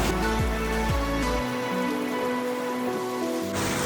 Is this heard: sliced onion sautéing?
no